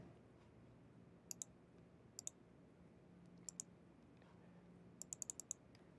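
Sharp computer mouse clicks come in quick pairs and a short burst of several, close and crisp over a faint, quiet room hum with no talking.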